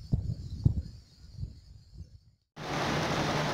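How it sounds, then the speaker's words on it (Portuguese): After a few low knocks and thuds, a sudden heavy downpour starts at a riverside fishing spot, a loud, steady, dense hiss of rain that continues without pause. "Começou a chuva de novo."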